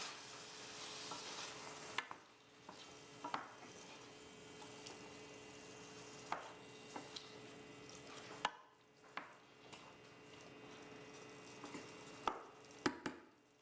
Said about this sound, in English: Stir the Kalamata olives to combine. Add the chickpeas. Stir to combine.